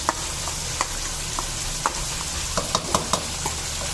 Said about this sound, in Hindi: थोड़ा सा भून लिया है मसाले डाल के, अब ये टमाटर का पेस्ट डाल देंगे